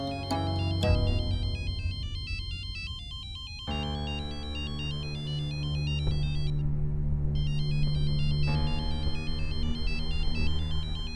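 A melodic electronic ringtone plays repeatedly, its bright looping notes cycling with a short gap partway through, loud and close with no talking.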